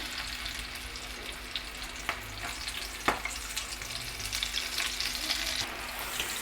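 Sweet corn frying in hot cooking oil, a steady crackling sizzle with scattered sharp pops and spatters, close and fairly quiet, with no talking.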